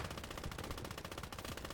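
In the WWII strategy game Gates of Hell: Ostfront, a mounted machine gun fires a steady, rapid burst of closely spaced shots. The burst is loud and continuous with no other sound.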